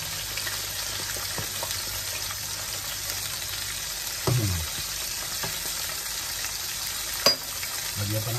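Shrimp tempura fries in hot oil with a steady close sizzle throughout, broken by a couple of louder spattering bursts as batter is added.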